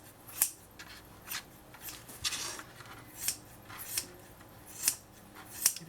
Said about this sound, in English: I'm just going to use my scissors and just trim like this